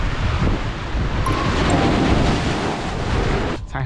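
Sea waves and gusting wind roar steadily at Cha-am beach in Thailand at high tide, a broad continuous wash with heavy wind buffeting the microphone.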